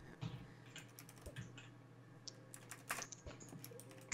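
A computer keyboard is typed on in quick irregular bursts of faint close key clicks with no talking.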